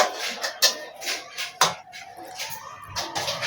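Washed, drained mourala fish goes into an induction wok, bringing a few sharp metallic clanks and scraping kitchen clatter, with utensil knocks at irregular intervals over a quiet room.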